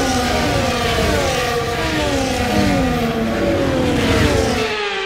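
Formula 1 cars on a formation lap in the F1 24 racing game: layered engine whines rising and falling together as several cars drive close by, a steady loud roar with no talk.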